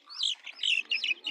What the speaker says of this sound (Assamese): প্ৰথম আৰম্ভণিতে হাঁহ মুৰ্গীবিলাকৰ বজাৰ